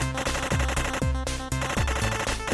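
Rapid machine-gun bursts in the video game Super Amazing Wagon Adventure, loud and continuous with a few brief breaks, layered over busy game sounds.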